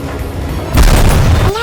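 In War Thunder, a Mirage 5F jet is hit by a missile and blows up in a loud, deep boom with a sustained rumbling roar, rising over a background engine drone.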